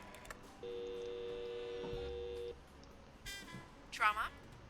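In the Blacksad video game, a phone line gives a long steady tone and is then dialed with a quick run of short touch-tone beeps. A soft voice sits faintly behind.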